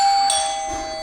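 A doorbell at a village home gives a short electronic ding, a clear tonal chime that sounds once and decays quickly, close and alone.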